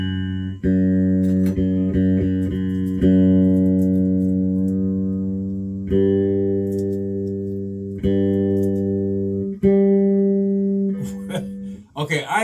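A bass guitar string is plucked and left to ring, then plucked again several times with pauses between, its pitch shifting slightly as it is tuned.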